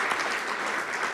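Community-gathering audience applauding, a dense, even burst of many hands clapping, brief and close, with no voices over it.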